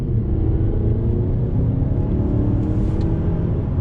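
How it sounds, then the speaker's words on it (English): A 2021 Mazda CX-9 Signature SUV pulls away from a dead stop under throttle in manual shift mode, giving a close, steady low engine rumble that builds evenly for a few seconds with no talk. "from a dead stop, on throttle, here we go."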